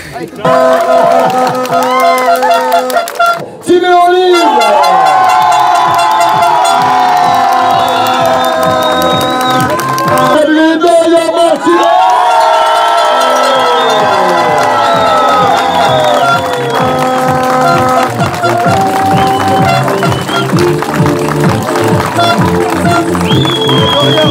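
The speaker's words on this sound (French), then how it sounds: "Ce sont vos applaudissements." A crowd applauds and cheers with shouts and whoops, loud and sustained, with a brief dip early on, while tonal voices and other sounds run through it.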